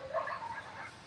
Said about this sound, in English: There's a lot of dogs in my neighborhood. You hear those dogs?